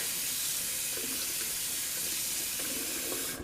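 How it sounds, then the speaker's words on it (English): A Williams shaving soap puck is rinsed under a running faucet, giving a steady, close, even rush of tap water that holds for about three seconds and then cuts off. "I'm just going to quickly just going to rinse off the Williams puck"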